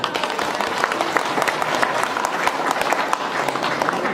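Audience applause at a gathering, a dense steady patter of many hands clapping close and fairly loud for the whole stretch, with a faint murmur of voices underneath.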